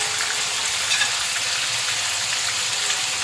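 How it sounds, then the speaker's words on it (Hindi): Chicken pieces frying in a pan, a steady dense sizzle with soft crackling throughout, close and continuous, no voices. "5 मिनट हो चुके हैं चिकन को फ्राई करते हुए।"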